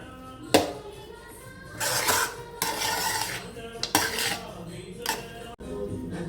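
Vangi bath, a spiced eggplant rice dish, stirred and mixed in a metal pan, with spoon scrapes and clanks against the pan in uneven bursts, close and fairly clear, with no talking.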